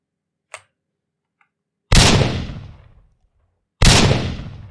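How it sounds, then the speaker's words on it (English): Two heavy grenade blasts boom out in a Unity first-person shooter game, each one loud with a long fading rumble. A faint click comes before them, and there are short silences between the explosions. "the explosion that was here made this grenade move a bit"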